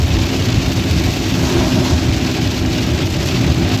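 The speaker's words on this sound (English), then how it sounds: "here we go with this rain and stuff" Steady, loud rain pours continuously outdoors with a dense, unbroken hiss and low rumble, filling the whole stretch without any talking.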